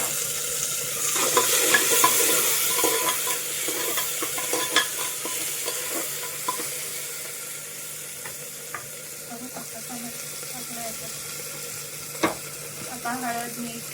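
Tomato tipped into frying onions in a pan, a soft sizzle fading slowly as a utensil scrapes and stirs in scattered close clinks and taps, no voices.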